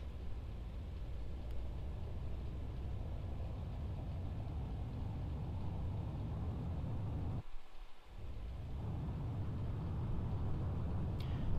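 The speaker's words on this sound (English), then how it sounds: "Warp drive active." Spaceship warp drive engaging in EVE Online: a steady deep rumbling engine drone with broad hiss that holds constant, briefly dips out for a moment, then resumes and swells slightly at the end, with no talking.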